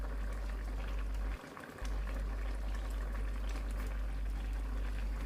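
Sambal chili paste sizzling steadily in a pan after petai beans are added, a dense continuous frying hiss with a brief break partway through.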